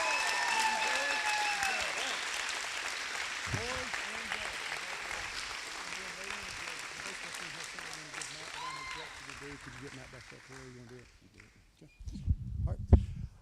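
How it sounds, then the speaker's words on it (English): Audience at a school athletics awards event applauds the varsity athletes of the year: sustained clapping from a crowd with some voices mixed in, thinning out toward the end before a burst of louder nearby sounds. "let's give them a round of applause."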